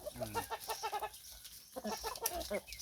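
Young chickens, hens and cockerels, cluck and squawk in quick, busy bursts close by on a farm, with some tonal calls mixed in and no one speaking.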